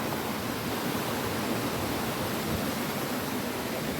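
Steady broadband rush of stream water flowing down from Mirror Pool along the Bride's Pool nature trail, continuous and fairly loud with no voices.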